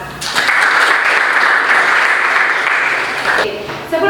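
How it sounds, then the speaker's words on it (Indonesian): Applause from a class of students in an Indonesian school lesson, a steady dense clapping that swells in quickly and holds loud for about three seconds before cutting off, with a brief voice at the end. "Tepuk tangan untuk kita semua."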